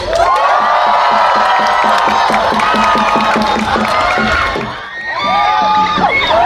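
A crowd at a constitution-reading gathering cheers and whoops loudly, with high excited voices, shouts and some clapping forming a continuous roar that dips briefly near the end before rising again.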